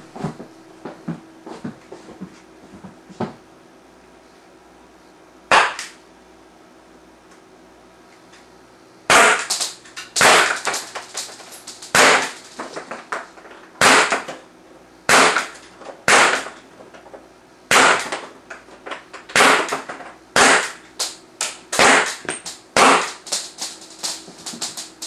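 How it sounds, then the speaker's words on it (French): KWC Sig Sauer SP2022 air pistol fired at targets 5 metres away, a long series of loud sharp pops coming in irregular bursts with brief pauses, some scattered softer clicks and handling noises before the shooting. "on prend l'arme. Et voilà. On enlève la safety et on retire. Tire à 5 mètres avec le pointeur laser."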